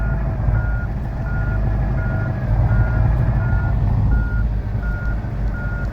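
A truck in the Truckers of Europe 3 video game reverses while parking, its steady, evenly spaced reversing beeps sounding over a loud, constant engine rumble.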